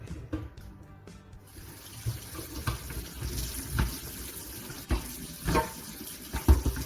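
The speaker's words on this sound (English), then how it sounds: "Every time I want clean water on my mop, I rinse it under the tap." Water runs from a tap as a mop is rinsed under it during floor cleaning, a steady close splashing flow with bursts and knocks as the mop head moves in the stream.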